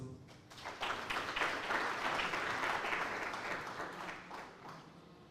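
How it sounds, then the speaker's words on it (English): Audience applause at a university student entrepreneurship programme launch, a steady wash of clapping from a room full of people, swelling after a moment and holding fairly even before tapering slightly, with no talk over it. "Can we give him a round of applause?"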